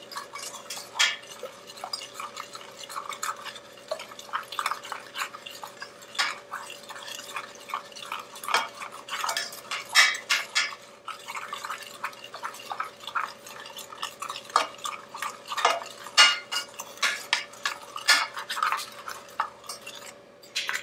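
Lightly beaten egg being stirred into a mixture in a pan for no-bake Nanaimo bars: a spoon clinks and scrapes against the pan in an irregular, busy rhythm, with soft wet sounds and no talking.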